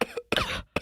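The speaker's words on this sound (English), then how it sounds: "I do hear that coughing" A person coughs in three short, harsh bursts close to the microphone, with brief silent gaps between them, in a studio setting.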